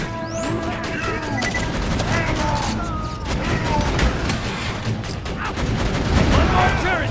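Shotgun fire in the shooter game Borderlands 2: a dense, loud barrage of blasts, crashes and impacts running continuously for several seconds, with brief voices mixed into the chaos.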